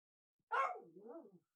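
A puppy in a video game gives a single short bark that trails into a falling, whiny whimper, fairly close and clear with nothing else around it.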